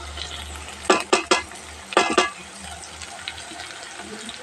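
Garlic, ginger and onion fry in a pan with turmeric, cumin and coriander powder for a duck curry. A soft, steady sizzle runs throughout, broken by a few close, loud stirring scrapes in two short bursts.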